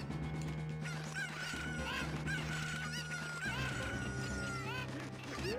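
A chicken clucks and squawks in The Legend of Zelda: Ocarina of Time, repeated bird calls riding over steady game music, fairly quiet throughout.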